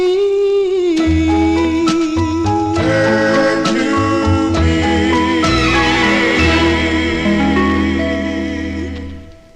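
An early 1960s vocal group 45 record plays loudly and continuously, with layered harmony singing over a steady band backing, fading slightly at the very end.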